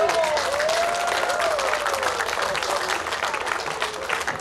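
Audience at a 2018 hot wing eating world championship in Hämeenlinna claps steadily for the champion, a dense sustained round of applause with crowd noise, while a voice talks over it.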